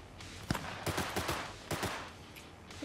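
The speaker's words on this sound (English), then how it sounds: "Who is shooting me from up there?" Gunfire rings out in the video game Cyberpunk 2077: several sharp shots and short rapid bursts, some sudden and loud, others thinner and farther off, over a faint background.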